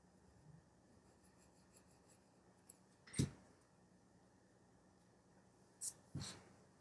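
A pencil sketches a face on paper, with soft scratching strokes heard close but faint, plus a couple of louder brief rubs in an otherwise quiet room.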